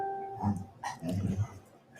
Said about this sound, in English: Do you hear my fussy dog?